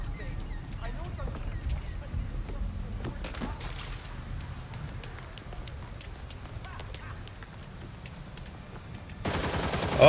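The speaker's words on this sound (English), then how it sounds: "Oh, I hear gunfire." Rapid bursts of gunfire from the Gotham Knights video game, faint and distant beneath a steady game soundscape, with a person talking over it.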